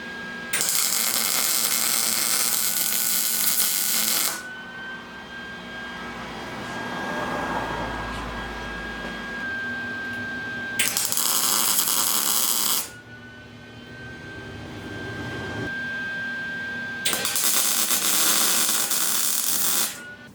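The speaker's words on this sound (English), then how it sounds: "I'm gonna tack weld the top frame rail up." Tack welding the top frame rail of a Harley Sportster chopper during a hardtail conversion: three loud, steady crackling buzzes lasting a few seconds each, close up, with quieter hissing gaps between them.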